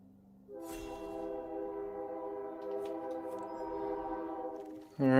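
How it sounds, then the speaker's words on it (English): A train rolling past during a game livestream, its horn holding a steady, loud, layered tone for several seconds, with a sharper burst of noise at the very end. "got the train coming"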